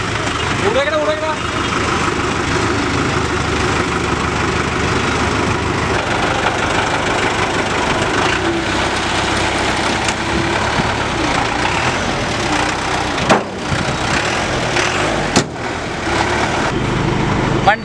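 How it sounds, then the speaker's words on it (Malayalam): A Willys military truck's engine idles just after starting, a loud, steady rumble with a rough, knocking texture that runs continuously without a break. "ഇങ്ങനെ വണ്ടിയുടെ ഒരു സ്റ്റാർട്ട് ചെയ്തിട്ടുള്ളൊരു ഗർജനം എന്ന് വേണമെങ്കിൽ പറയാം"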